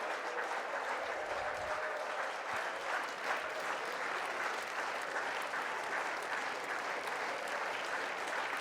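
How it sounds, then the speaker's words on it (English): A college baseball crowd at an Oregon State game against Xavier roars and applauds in a steady, dense wash that holds at an even loudness for the whole stretch, with no clear voices standing out above it. "Here comes the crowd again."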